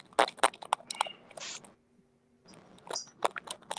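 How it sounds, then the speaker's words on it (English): Someone on a call chews close to the microphone with loud, irregular crunching bites in rapid bursts, then a brief quiet pause before the crunching starts again. "What's that crunching sound?"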